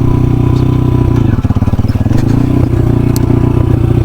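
An enduro dirt bike engine while riding on a trail, a loud close-up putter with rapid firing pulses that briefly dip and pick up again, and clattering and scraping along with it.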